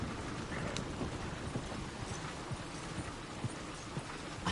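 Steady clip-clop of horse hooves in a PS4 video game, in an even walking rhythm, set against a constant hiss of rain-like background noise.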